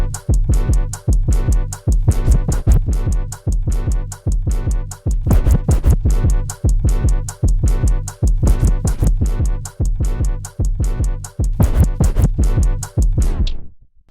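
A DJ plays a 4-beat juggle with a baby scratch on turntables, giving a fast, continuous run of loud, punchy beats and repeated drum hits for about fourteen seconds, with no talk.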